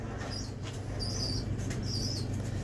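Soft fluttering wingbeats of a pigeon, a few quick flaps over a low steady background hum, fairly faint and close, with no voices.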